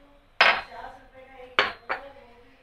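Ginger is crushed hard against a metal surface in three sharp, close impacts, the last two close together, with a brief ringing clink after each.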